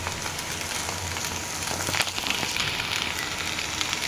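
Maggi noodles are added to fried egg in a hot pan, giving a steady close sizzle with fine crackles and a few small pops, moderately quiet and unbroken by speech.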